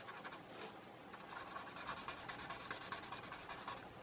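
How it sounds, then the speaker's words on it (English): Pencil shading and blending on colored paper gives a steady, faint, close scratchy rubbing with quick rhythmic strokes throughout. "Someone mentioned that it sounds louder when I blend on, when I shade and blend on this"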